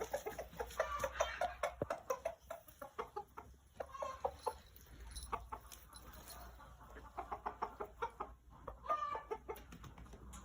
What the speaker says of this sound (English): that big fluffy one is our rooster. So what's he doing? He's tidbitting.